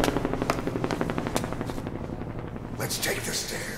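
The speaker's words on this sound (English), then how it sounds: "An helicopter coming in." A helicopter in a video game, its rotor thumping in a fast, steady rhythm close by, mixed with bursts of gunfire and a voice talking over the action.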